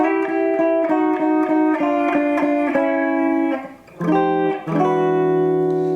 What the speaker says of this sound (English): So turnaround number 1 is going to sound like this